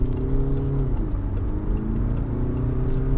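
A Peugeot 508 with a 1.5 diesel engine accelerates onto a road, heard from inside as a steady engine drone that climbs in pitch, dips briefly at a gear change, then rises again over road rumble.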